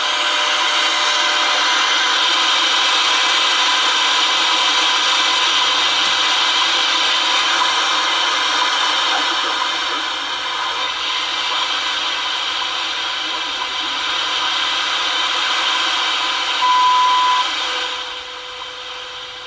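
Radio receiver hiss and static during antenna testing, a steady broadband noise holding loud for most of the stretch before dropping near the end, with no talking.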